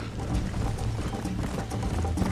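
Horse hooves clip-clop in a steady gallop rhythm in the Red Dead Redemption video game, loud and continuous with game ambience underneath.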